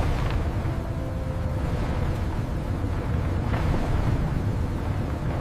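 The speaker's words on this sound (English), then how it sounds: "Copper enters the fire." Fire roars in a copper smelting furnace inside a factory, a dense, continuous low rumble with a windy, blustery texture that never lets up.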